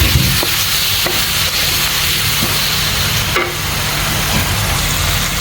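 Turmeric, chili, coriander and cumin spices are stirred and fried in oil for a fish kofta curry, giving a loud continuous sizzle with a few scraping stirs, close up.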